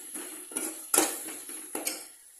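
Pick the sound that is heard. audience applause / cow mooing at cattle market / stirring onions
stirring onions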